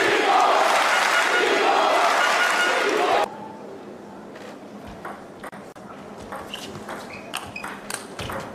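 An arena crowd at a table tennis match at the European Championships cheers loudly for a few seconds, then drops off abruptly into quieter murmuring, scattered claps and sharp ball or paddle clicks.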